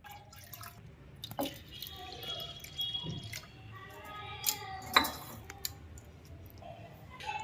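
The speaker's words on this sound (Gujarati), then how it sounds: "હવે મગની દાળ પલાળી હતી ને એને આપણે ધોઈ નાખીએ છીએ 2 પાણીએ." Soaked moong dal is rinsed in a bowl of water in a home kitchen, with soft splashes, drips and small clicks from the utensils. The sounds are faint and irregular, with no talk.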